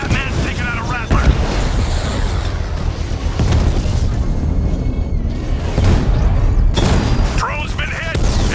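Explosions and heavy mechanical rumble sound as an enemy drone is hit in the Batman Arkham Knight video game, a dense loud barrage with voices talking over the combat.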